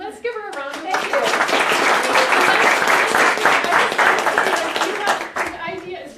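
A room full of people at a business speaking workshop breaks into loud, dense applause that builds quickly, holds steady for several seconds, then tapers off, with a voice briefly heard at the start and end.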